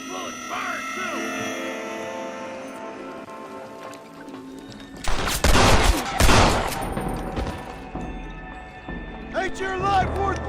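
Gunfire in Red Dead Redemption: a burst of shots around the middle, loud and close, over a western game soundtrack with someone talking before and after.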